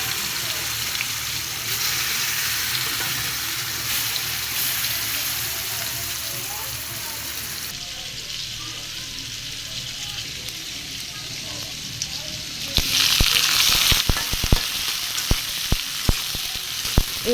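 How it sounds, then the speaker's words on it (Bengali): Rohu fish pieces frying in hot oil with ginger-garlic paste, a broad continuous sizzle that swells louder near the end with sharp crackles and spatters. "তেল গরম হওয়ার পর আমি একে একে মাছগুলোকে দিয়ে দিব"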